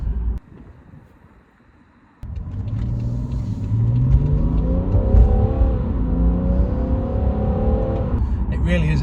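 BMW 640d Gran Coupe with a ZF 8-speed gearbox driving along, a steady close-up engine rumble that swells after a quiet start and holds through the clip, with some engine pitch rising and falling as it pulls.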